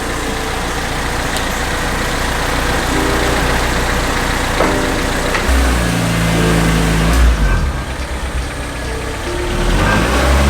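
A turbocharged Honda Civic fitted with an inexpensive eBay turbo kit runs on its first startup. The engine idles loud and close, and its rumble deepens and shifts midway through with a few throttle changes. No one speaks.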